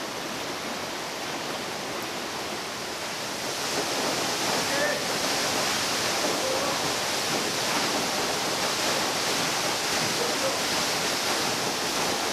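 Roaring water of the lowest and largest of the three-tiered Sipi Falls at the edge of Mount Elgon National Park, Uganda, heard up close as a loud, steady broadband rush that swells slightly partway through, with no voices.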